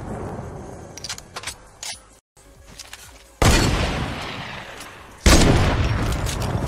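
Gunfire in the Fortnite battle royale video game: sharp bursts of shots cracking out, with two loud, dense volleys that each ring on for a second or two, separated by quieter scattered pops and a brief silence.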